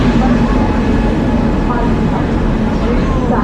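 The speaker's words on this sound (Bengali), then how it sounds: "ঢুকে পড়েছে ফারাক্কা এক্সপ্রেস।" The Farakka Express, hauled by a WP locomotive, rolls into a station with a loud, continuous rumble and clatter that fills the whole clip.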